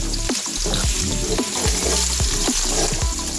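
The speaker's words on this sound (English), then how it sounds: "Add the grounded garlic and ginger. And then stir it" Ground garlic and ginger sizzle steadily in a hot pan while a utensil stirs them, giving a constant close frying hiss broken by repeated short scraping strokes.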